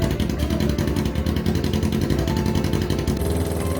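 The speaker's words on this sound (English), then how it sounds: "The exhaust noise was high-pitched and actually made my ears ring." A Kawasaki Ninja 250 engine fitted to a go-kart runs loud and close through its exhaust, a buzzy, high-pitched drone with rapid pulsing as the throttle is held and blipped, with no voices.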